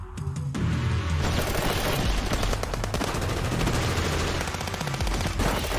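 Covering gunfire in the video game Path to Nowhere, with dense, rapid bursts of shots and booms running almost continuously and loudly after a brief quieter opening, with no talk.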